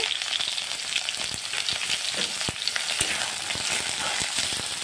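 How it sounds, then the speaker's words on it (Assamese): Large potato pieces frying in oil for a fish curry give off a dense, steady sizzle dotted with sharp crackles and pops, close and continuous throughout. "ডাঙৰ আলুটো অলপ ভাজি ল'ম"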